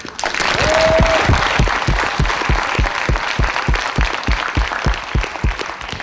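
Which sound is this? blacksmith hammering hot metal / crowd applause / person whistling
crowd applause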